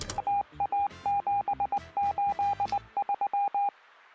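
A rapid series of electronic keypad dialing tones, about two dozen short beeps in quick uneven bursts, close and clear with a faint tone running beneath.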